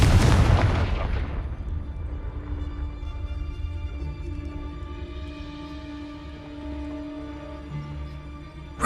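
A Confringo spell explodes in the game Hogwarts Legacy as one sharp, loud blast that quickly dies away into a low rumbling tail and lingering ringing tones.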